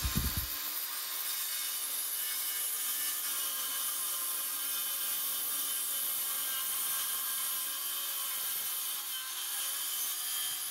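A workbench built from 2x4 timber is cut to its final length with a saw, giving a steady, continuous rasping hiss that runs close and loud for the whole stretch with no talk.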